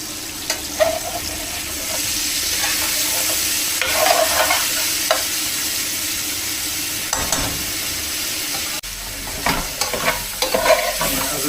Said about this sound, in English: As I say, fry that in batches, just remove it to a plate.